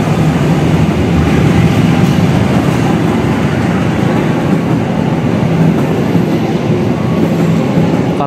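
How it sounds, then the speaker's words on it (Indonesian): The Argo Sindoro passenger train rolls along a double-track line at restricted speed, a loud, continuous rumble and roar of wheels on rail, close and steady with no speech. "Ini dia kereta Argo Sindoro berjalan di jalur double track,"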